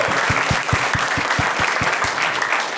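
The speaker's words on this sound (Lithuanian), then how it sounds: "Plojimai." An audience applauds steadily for a quiz-show winner announced in first place, a dense wash of clapping with low thumps pulsing through it, loud and continuous throughout.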